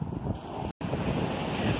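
Sea waves wash onto the beach by the São Tomé lighthouse in Campos dos Goytacazes, Rio de Janeiro, a steady roaring surf mixed with wind, cut by a split-second gap of silence.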